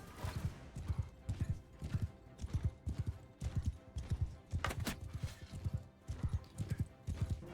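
Hooves of a galloping horse in the video game Mount and Blade II: Bannerlord pound in a steady, rapid rhythm, loud and close, with a faint whinny and battle noise behind.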